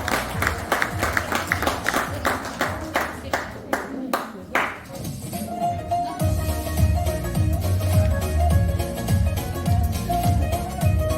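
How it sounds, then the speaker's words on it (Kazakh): An audience at a wedding-themed contest in a village culture hall claps in a quick steady rhythm, loud and close, before the applause gives way to people talking over a low musical backdrop. "кішкене қошаметтеп қойыңыздар"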